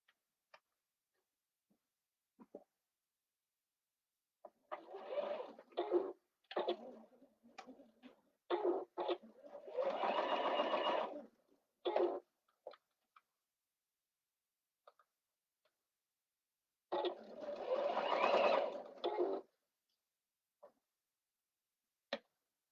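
A sewing machine runs a lining seam at a 3/8-inch seam allowance, stitching in several short mechanical bursts with quiet pauses between, then one longer run near the end; close and moderately loud, with no talking.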